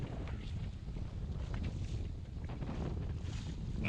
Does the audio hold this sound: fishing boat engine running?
yes